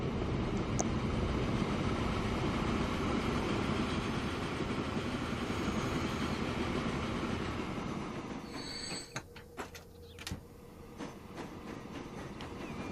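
A train rolls steadily through the transport sim Transport Fever 2, a loud continuous rumble with wheel squeal and clatter, thinning out near the end into sparser clicks and knocks.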